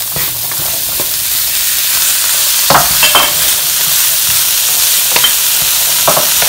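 Chickpeas are stirred in a pan over medium heat, giving a loud, steady frying sizzle, and several sharper scraping strokes of the spoon cut through it at irregular intervals.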